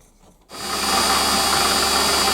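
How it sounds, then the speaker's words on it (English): A metal lathe center drilling into a metal block, a sudden start into a steady, loud whirring and grinding hiss that holds evenly after a brief quiet moment. "center drill a hole in the block"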